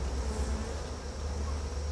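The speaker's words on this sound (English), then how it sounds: "See how they're starting to buzz around here?" Honey bees swarming around an opened backyard hive, a dense continuous low buzz close by, steady and unbroken with no talking.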